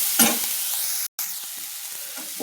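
Turmeric powder fries in hot oil in a pan for idli upma. A close, steady sizzle continues throughout, with stirring scrapes.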